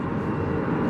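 Steady roar of an Airbus A330 jet airliner at Atlanta airport, a continuous broadband engine rumble heard briefly from a distance without any talk.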